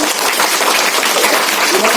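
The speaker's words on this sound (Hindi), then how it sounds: "जोरदार ताली बजाइए" Loud, dense applause fills a children's TV quiz show studio, a steady roar of many hands clapping without letup.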